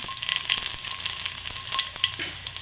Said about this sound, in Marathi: तेल गरम झालेलं आहे, याच्यामध्ये जिरे घालायचे, त्यानंतर लसूण घालायचा.